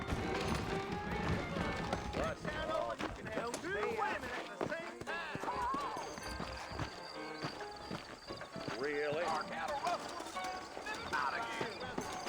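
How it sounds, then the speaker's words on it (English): Horse hooves in Red Dead Redemption clip-clop at a steady trot, with occasional snorts and whinnies, as voices talk over the rhythmic hoofbeats throughout. "I got the horses saddled up and ready out front."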